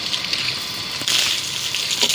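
Water sprays in a steady, close hiss onto a building under construction, with a brief louder surge partway through and no talk.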